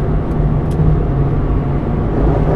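Aston Martin with an automatic transmission pulling hard on the road at speed, a steady close engine and road roar that holds loud and even throughout with no talk.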